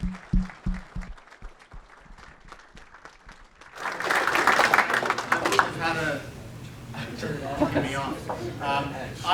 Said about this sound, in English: Please give these people a big round of applause